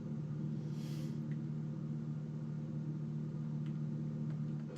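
The Konensei Gamera mod car in BeamNG.drive idles with a low, steady engine hum and rumble, even and continuous, with no talk.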